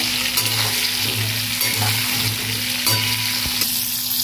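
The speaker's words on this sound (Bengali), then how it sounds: "পটলটাকে একটু লাল করে ভেজে নেব।" Pointed gourd (potol) pieces fry in hot mustard oil with turmeric and salt, giving a steady close sizzle broken by short bursts of crackling as they are stirred in the pan.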